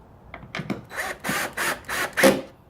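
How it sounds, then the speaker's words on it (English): A power drill driving a screw while fitting an LED rear turn signal on an Infiniti QX60 / JX35, whirring in several short, separate bursts with brief pauses and a small mechanical click near the start. "Now, I'm going to use a drill"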